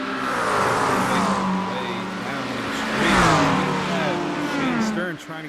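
GT3 race cars, Audi, Ferrari and McLaren among them, racing at Le Mans with engines screaming and shifting pitch as they pass, loud and continuous, under a commentator talking.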